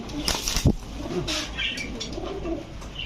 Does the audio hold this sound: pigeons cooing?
yes